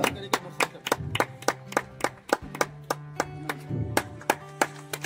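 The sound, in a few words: audience applause at an honouring ceremony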